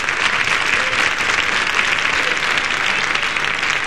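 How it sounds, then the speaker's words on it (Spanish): Sustained audience applause at a live stage show, a dense, steady wash of clapping that holds evenly for several seconds with no voice over it. "que es un aplauso para ella"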